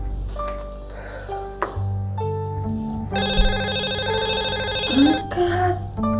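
A telephone rings in a house in an Indonesian TV drama, its bright electronic trill sounding loudly for a couple of seconds over a soft music score, with brief voices around it.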